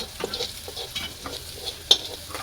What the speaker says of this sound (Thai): พัดกระเทียมให้หอมกันเนาะแต่มัมาพัดไข่